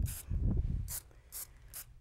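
Hairspray is sprayed on hair in three or four short hissing bursts, spaced about half a second apart, close and fairly loud, with soft rustling of hair between them.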